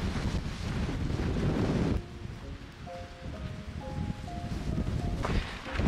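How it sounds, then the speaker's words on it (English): Strong wind roars and buffets the microphone on an exposed mountain trail in the Sierra Nevada on the Pacific Crest Trail, a loud continuous rush with gusts and a brief lull midway. "Scariest wind yet."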